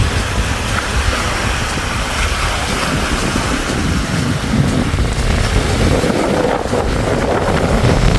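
Strong wind gusting at Lake Puelo in the Andes of Patagonia, a steady loud roar buffeting the microphone with a surf-like wash of water in the background, continuous throughout with no talk.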